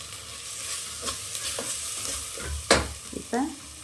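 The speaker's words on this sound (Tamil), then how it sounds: "அதனால் இந்த தக்காளி போதும் நல்லா வதக்கி விடுங்க" Tomatoes sautéed in a pan for egg biryani, with scraping stir strokes and a soft sizzle, plus one sharper clatter near the end, no talking.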